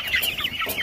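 Young chickens, five weeks old, cluck close by in a brief burst of several overlapping clucks and squawks.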